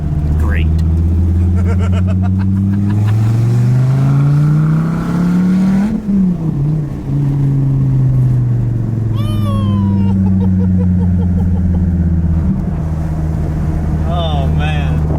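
Dodge Viper ACR Extreme engine drones loud and close while cornering, its pitch sliding up and falling back through gear changes, with people talking over the cabin noise throughout.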